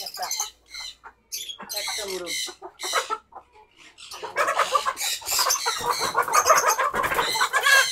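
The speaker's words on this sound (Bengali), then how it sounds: "আমাদের কয়েকটা টাইগার মুরগি আছে" Tiger-breed hens cluck and squawk loudly and close up in a poultry pen, with agitated bursts and near-constant calling, while people talk in the background.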